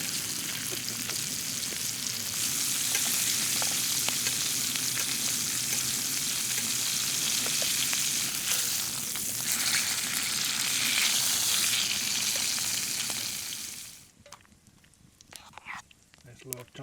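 Rosemary, thyme and garlic frying in a pan at a canoe camping site, giving a loud, continuous close sizzle that stops abruptly near the end, leaving quieter clinks.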